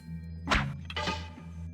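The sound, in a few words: trap firing in video game Thief: The Dark Project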